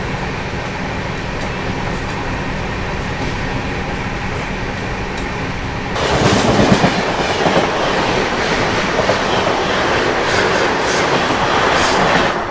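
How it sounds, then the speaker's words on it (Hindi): The 22434 Suhaildev Superfast Express rolls into Ghazipur City, heard from a First AC coach as a continuous rumble with rhythmic clickety-clack that swells louder midway. "चलिए आप लोगों को अराइवल दिखाते हैं गाजीपुर सिटी का।"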